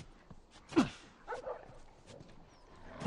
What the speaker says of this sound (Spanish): Estúpidos perros.